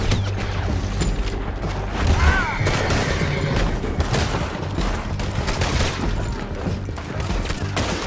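Gunfire in the video game Red Dead Redemption 2, dense bursts of rapid shots and booms in a shootout with riders, loud and continuous, with shouting voices mixed in.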